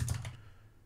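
A few quick keystrokes on a computer keyboard, close and quiet, forming a short burst of clicks that fades into near silence.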